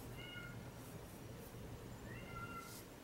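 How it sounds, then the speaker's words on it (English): A cat crying indoors in the background, two faint drawn-out meows, one early and one late, distant and quiet over a low steady room hum. "My poor kitty in the background. I don't know if you can hear her crying,"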